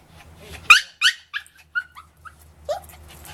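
A dog barks in a string of sharp, close yips and barks, spaced irregularly over a few seconds with brief pauses between them.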